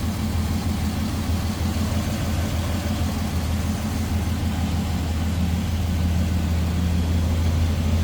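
A 1996 Chevrolet C1500 regular cab short box Stepside pickup with a cold air intake idles steadily close by, a low, even engine drone holding without revving for the whole stretch and no voices over it.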